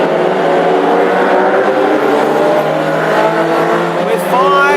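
Classic hot rod cars race through a 20-lap heat at Northampton, engines droning loud and steady with layered revving and passing roars, and a commentator talks over the noise throughout.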